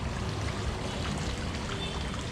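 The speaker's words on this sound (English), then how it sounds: "I just like the sounds of the waterfall." Water splashes steadily from a fountain waterfall at a bed and breakfast on Legian Street, a continuous close rushing wash with no voices.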